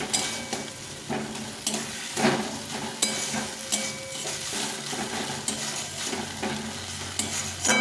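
Flat beans fry in a pan as a utensil stirs them, producing rhythmic scraping strokes and occasional metal clinks over a steady nearby sizzle, with no voices.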